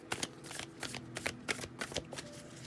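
Tarot cards shuffled by hand during a card reading, a quick run of crisp riffling and slapping bursts in an uneven rhythm, close and fairly quiet with no talking.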